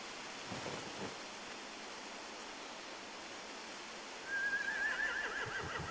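A horse whinnies once, faint and distant, over a steady rushing ambient bed in The Walking Dead video game, with a quiet camp-like backdrop and no talking.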